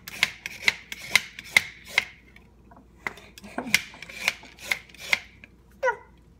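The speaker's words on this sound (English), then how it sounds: "peeling the carrots" Carrots being peeled at a kitchen counter during clay pot cooking, a series of sharp, rhythmic scraping strokes about half a second apart, close and fairly quiet, with a short pause midway and a brief rattle at the end.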